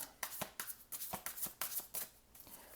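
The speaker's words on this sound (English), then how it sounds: "Let me get the cards out and then I'll explain it to you because the shuffling is a little bit loud" Tarot cards are shuffled by hand in a quick series of about a dozen crisp riffling bursts, close and distinct, each a short papery rasp in an uneven but steady rhythm with no talking.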